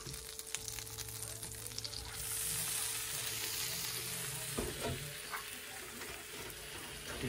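Milk poured into a hot pan with melted butter for scrambled eggs sets off a steady close sizzle and crackle, with occasional louder spatters.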